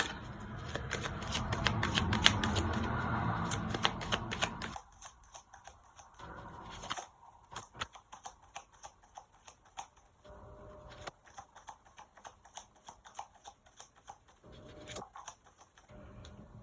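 Tarot cards being shuffled by hand: a dense riffling burst followed by repeated soft slapping and flicking of cards, close and fairly quiet, with no talk.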